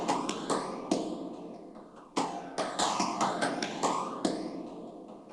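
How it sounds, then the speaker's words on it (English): A clap fill loop in an FL Studio beat, drenched in heavy delay and phaser, plays alone as sharp repeated claps in an uneven pattern, each trailing into a swirling, echoing decay. "I added another loop, which is this clap fill. As you can hear, it'll have a lot of delay and a lot of phaser effect on it."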